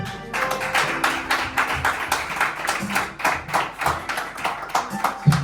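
Steady applause from a conference audience, many hands clapping in a dense, even patter at moderate distance that carries on for several seconds, with a few voices faintly underneath.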